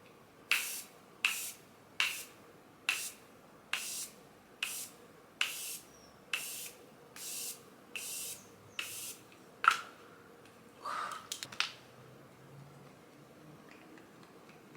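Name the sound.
setting spray misting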